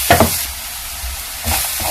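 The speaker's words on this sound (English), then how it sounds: "I'll just go ahead and add it in, and then I'll mix everything together" Chili spice gets stirred into a frying pan mixture for soya vegetable rolls, with a quick scraping stir at the start, a low sizzle, then another close scrape.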